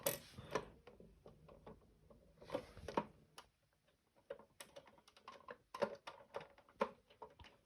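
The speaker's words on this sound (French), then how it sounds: "si je dévisse l'ampoule, si j'y arrive" The bulb of a Merlin Gerin neon emergency light is unscrewed, giving a series of faint, close plastic clicks and scrapes in irregular bursts, with quiet gaps between them.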